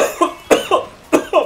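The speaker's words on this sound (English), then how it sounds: "Cough, sneeze, ugh. Choke slightly there." A series of short, sharp coughs close up, about three rough bursts in quick succession with brief pauses between them.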